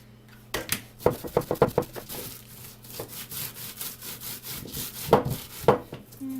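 A rolling pin is pushed back and forth over a bag to grind ingredients finely for okonomiyaki, making a run of rubbing, crunching strokes up close.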